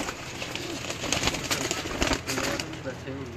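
A pigeon coos close by in soft, low repeated notes, with rustling and a voice talking in the background.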